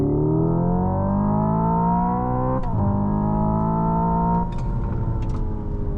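A Hyundai IONIQ 5 N electric car plays its synthetic four-cylinder engine note, rising steadily in pitch as it accelerates, then dropping sharply at a simulated gear shift before climbing again, loud and close.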